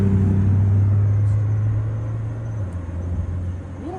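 Steady low rumble inside a moving car, a constant road and engine drone that eases slightly partway through, with no voices.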